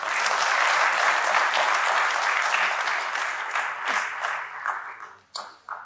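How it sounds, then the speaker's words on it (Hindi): Hall audience at a university function in Jhansi clapping steadily and loudly for several seconds, the applause thinning and breaking into scattered claps near the end. "आप सभी अपने लिए ताली बजाइए।"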